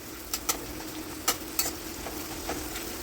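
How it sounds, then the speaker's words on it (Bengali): Onions frying in oil with garlic in a pan, a soft continuous sizzle punctuated by several sharp spatula clicks against the pan, close and fairly quiet. "পেঁয়াজটা একটু লাল লাল করে ভাজবো।"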